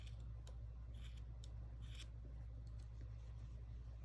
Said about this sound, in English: I cut off the top here.